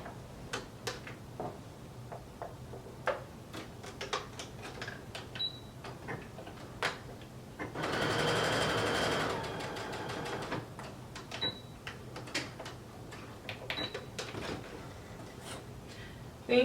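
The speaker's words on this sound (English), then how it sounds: "I'm simply just going to sew this area closed." Sewing machine stitching a pants waistband closed, a short run of dense rapid stitching lasting about two seconds amid scattered light ticks and clicks of handling, close and fairly quiet.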